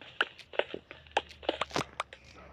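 A series of sharp crunching, cracking hits, about a dozen in quick irregular succession, like blocks being broken apart in a game, with no talking.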